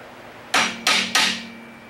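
Hammer tapping a washer onto the axle pin of a Ford 9N/2N/8N tractor: three sharp, close metallic taps in quick succession, with no talk.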